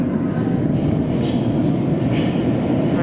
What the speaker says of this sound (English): we got a train for Heathrow